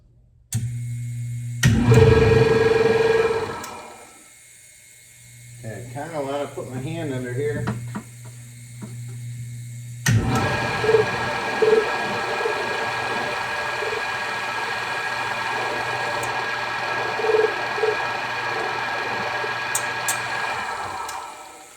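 Vintage barn-find pressure washer, belt-driven pump: a few loud rough bursts as it is started, a short lull, then a steady droning engine hum that runs on, with someone talking over it.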